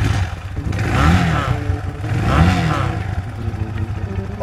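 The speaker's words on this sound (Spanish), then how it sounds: "Vamos a encender la moto." A Chinese Vento Crossover 250 motorcycle with a 250 cc engine runs close by, its exhaust note swelling in two rising revs over a steady idle, with no talking.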